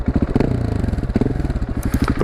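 A motorcycle engine idles close by while being warmed up before wheelie practice, its fast, even, throbbing pulse running steadily, with some clatter and no talk.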